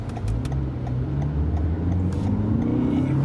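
A Toyota Camry's 2.5-litre four-cylinder engine drones and climbs in revs, a steady mid-pitched hum that swells slightly toward the end, heard up close and alone.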